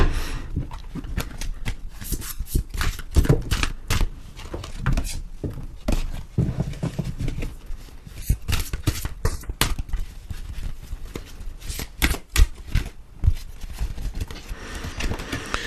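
Oracle cards are shuffled and handled, giving a long run of soft, irregular slaps and riffling clicks up close, with brief pauses between bursts.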